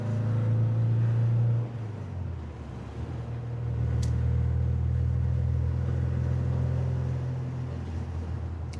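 Phoenix Red Porsche 914 driving through the gears, its engine droning low and steady from inside, pitch dropping briefly at a shift before building again.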